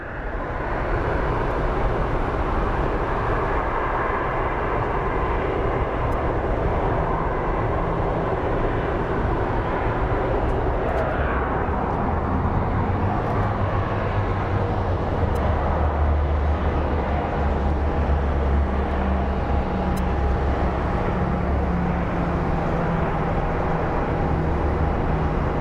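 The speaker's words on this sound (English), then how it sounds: "we have an A319 coming in from Ontario. It was a 49-minute flight that's going to be landing" An Airbus A319 airliner on approach to land at Phoenix Sky Harbor gives a broad, continuous roar. It grows slightly louder midway and a low rumble builds toward the end, heard from a distance with no talk.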